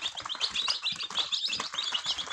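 Pushkin breed chicks peep in a dense, continuous chorus of high, overlapping chirps, close and fairly loud, with no voices.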